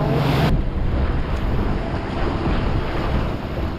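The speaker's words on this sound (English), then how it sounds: "Look at these waves there." Loud, steady wash of ocean waves around a fishing boat offshore while out for yellowfin tuna, with heavy wind buffeting close to the microphone throughout.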